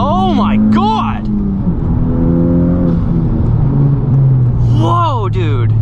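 A Honda Civic Type R with a Stage 3 flex-fuel tune accelerates hard in second gear, a loud, steady engine drone rising in pitch across the whole stretch while excited voices shout over it.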